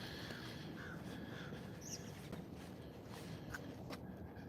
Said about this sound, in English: You can hear a lot of the birds in the background because it's springtime.